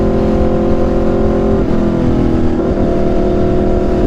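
Aprilia RSV4 motorcycle fitted with an SC-Project exhaust accelerating on a short rainy ride, a loud, steady engine drone close by with a brief dip and shift in pitch midway, then pulling on again.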